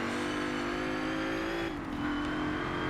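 A Ford Falcon XR8 A-Class racer in Forza Motorsport 7, its V8 engine droning at steady high revs, pitch dipping briefly as the throttle eases before climbing again, close and loud throughout.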